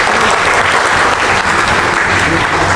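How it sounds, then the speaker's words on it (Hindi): Dense, steady audience applause at an open mic poetry gathering welcoming a guest, continuous and loud from start to finish. "आप भरपूर तालियों से इनका इस्तकबाल फरमाएं।"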